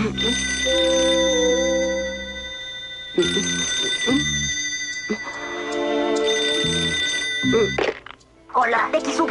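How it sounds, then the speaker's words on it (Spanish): A cartoon telephone in a bedroom at night rings in loud electronic bursts, several rings separated by short pauses, followed by thumps and scattered voice sounds at the end. "Dekizugi tiene teléfono en su habitación y cuando llega la noche..."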